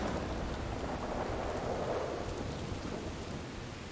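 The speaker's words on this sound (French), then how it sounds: "J'aime bien quand il pleut" Heavy rain and rolling thunder in the Red Dead Redemption 2 video game, a dense steady downpour with a low rumble, fairly quiet and heard alone without talk.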